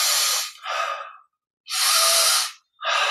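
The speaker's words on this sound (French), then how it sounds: "Donc inspire vers l'arrière, expire détente, inspire vers l'avant" Human breathing paced to a leg exercise, four breaths in close succession, each a loud, close airy whoosh, with a clear pause before the third.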